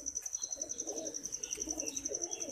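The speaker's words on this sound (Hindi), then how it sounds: "कबूतर की बच्ची है भाईजान, दुम देखें जरा कितनी छोटी सी है।" A young pigeon chick gives soft, low cooing and murmuring calls, faint and close, with a steady high tone running behind them.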